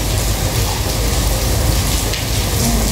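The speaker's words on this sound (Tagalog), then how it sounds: "Umuulan." Steady, dense rain falls close by, a continuous hiss and patter on surfaces with no break through the whole stretch.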